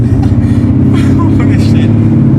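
A sports car engine rumbles loud and close while driving cautiously through a neighborhood, a steady low drone with a slight rev, as voices talk over it.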